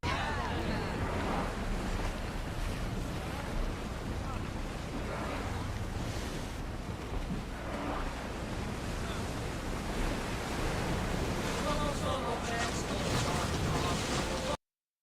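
A ship sailing across ocean waves in Assassin's Creed Odyssey: constant rushing surf and water wash against the hull with gusting wind, loud and steady throughout.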